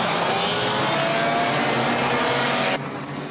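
Front-wheel-drive enduro race cars roar around Orange Show Speedway in a loud, dense engine blare that holds steady, then drops off sharply near the end as the pack moves away.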